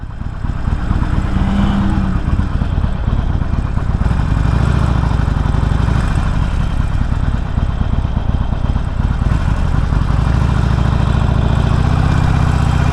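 A Harley-Davidson Forty-Eight Sportster engine runs loud and close, a steady deep rumbling throb that holds throughout with slight rises in revs, no voices.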